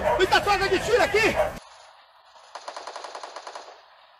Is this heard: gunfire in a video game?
yes